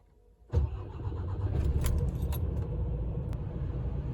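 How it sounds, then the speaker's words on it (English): A DAF XF 480 truck diesel engine cranks and catches, then settles into a steady low idle that continues to the end. "If we turn the engine on now, I can turn it off, turn it on."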